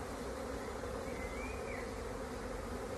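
Honeybees buzzing around an open hive being split during swarm management, a dense continuous close hum of many insects with no break.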